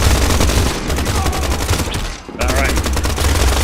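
Rapid bursts of pistol gunfire from the video game Pioner, loud and close, with dense repeated shots that break off briefly near the middle before resuming, and a short spoken word in between.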